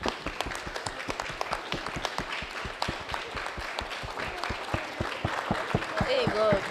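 Audience applause for Dr. Zainab at a Hausa popular culture arts event, steady scattered claps continuing throughout and swelling slightly toward the end, with some voices underneath.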